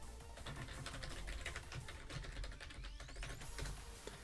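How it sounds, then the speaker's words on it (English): Fast keystrokes on a computer keyboard as login details are entered for a Wizard101 quick launcher, a steady run of close clicks over a constant background hum, with no talking. "the moment I type it in"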